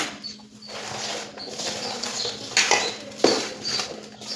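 A metal spoon clinks and scrapes against a bowl while mango pickle with cumin, fenugreek, salt and turmeric is mixed, giving repeated small clatters, close and moderately loud, with no talk.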